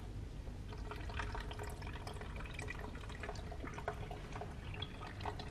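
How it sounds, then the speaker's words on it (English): A thin tube trickles a very small flow of water into sand, giving a faint, steady wash with scattered tiny drips and no voices. "we've just got a tube flowing a very small amount of water into the sand"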